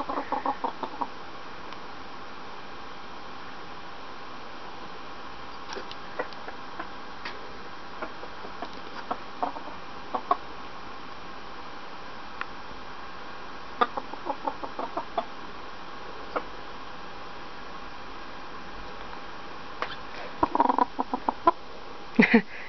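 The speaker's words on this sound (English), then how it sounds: "See, my chicken wants to eat it." A chicken indoors makes scattered soft clucks and ticking pecks, quiet and intermittent across a long stretch with a low background hum.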